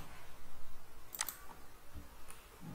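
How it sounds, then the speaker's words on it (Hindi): A single sharp computer mouse click lands about midway through, brief and close, set against a quiet, faintly humming room with a softer tap shortly after. "गलती से क्लिक हो गया"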